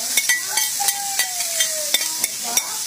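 Onions frying in browned, slightly burnt butter give a continuous sizzle, broken by sharp utensil taps and stirring clicks at a close distance.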